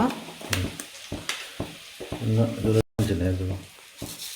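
Cinnamon sticks and cinnamon leaves sizzle in hot coconut oil, a crackling fry with sharp bursts and a brief break, loud and close with no talk.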